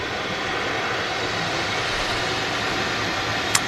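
A GE90 engine on a widebody jet at Manchester Airport roars steadily at high power from a moderate distance, a broad continuous rumble and hiss with one brief sharp click near the end.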